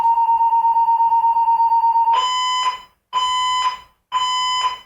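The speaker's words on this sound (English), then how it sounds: "Every single time I'm making a video, they start the fire alarm test. It goes beep, beep, beep." Fire alarm test sounds indoors: a rapid pulsing electronic beep runs for about two seconds, then shifts to loud, harsher repeated blasts about a second apart, with no speech.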